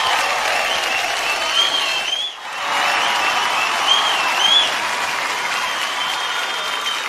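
Loud, continuous applause from a large awards-show crowd for Alia Bhatt's performance, a broad roar of clapping with a brief dip midway and faint whistles rising over it.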